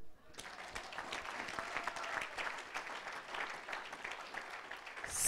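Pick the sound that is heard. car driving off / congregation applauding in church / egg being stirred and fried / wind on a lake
congregation applauding in church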